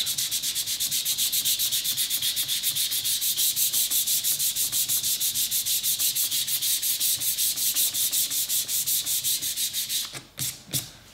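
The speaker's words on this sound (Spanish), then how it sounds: "Lijamos un poco y ya con eso, sin problemas." Sandpaper rubs back and forth over the raw leather of a sharpening strop to remove black paint, a fast, even rasping rhythm close up that stops near the end with a few last strokes.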